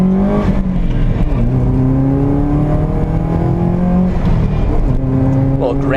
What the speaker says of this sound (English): So let's get a little first gear pull here.